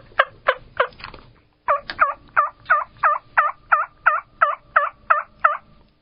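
A voice imitates a wild turkey hen: a few sharp clucks, a short pause, then a steady run of about a dozen raspy yelps, loud and close.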